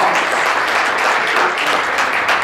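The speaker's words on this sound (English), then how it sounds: "Give them a big round of applause." Dense, steady applause from a crowd fills the whole moment, loud and continuous with no voices standing out.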